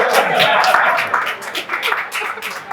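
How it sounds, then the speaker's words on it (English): An audience applauds at an exhibition event, scattered clapping that is close, moderately loud and fairly dense, with some light laughter mixed in. "was waiting for my applause"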